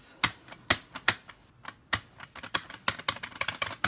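Buttons on a Hori Real Arcade Pro fightstick click in sharp, irregular bursts, single presses giving way to quicker clusters, loud and close with no voices over them.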